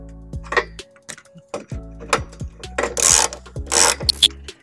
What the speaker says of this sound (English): We'll go ahead and get these snugged up with the 17 millimeter socket.